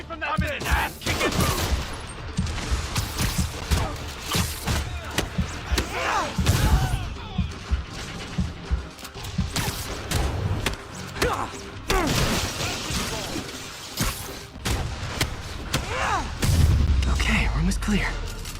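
Rapid automatic gunfire in the video game Marvel's Spider-Man Remastered, dense bursts of shots with crashes and impacts running continuously and loud, with a player talking over the action.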